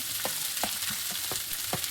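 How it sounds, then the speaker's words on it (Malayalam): Chopped cabbage, carrot and green chilli sizzle in a pan after mustard seeds are popped, with a spatula scraping and tossing in a steady rhythm of distinct strokes over a constant frying hiss. "കടുക് പൊട്ടിച്ചതിന് ശേഷം അതിലേക്ക് അരിഞ്ഞതും കൂടി ഇട്ട് കൊടുത്തിട്ട് നന്നായിട്ടൊന്ന് മിക്സ് ചെയ്ത് കൊടുക്കാം"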